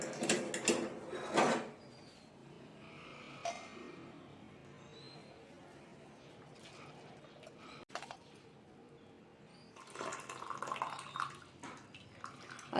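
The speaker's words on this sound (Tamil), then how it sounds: "இப்போ எடுத்து அதை வடிகட்டிக்கணும்." Boiled lemongrass tea being poured and strained, with liquid splashing and trickling in two bursts at the start and end, quieter clinking and dripping in between, close by.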